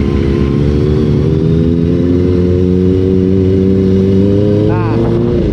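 A Kawasaki ZX25R motorcycle engine holds a loud, close, steady buzzing drone while the rider accelerates, its pitch shifting slightly near the end.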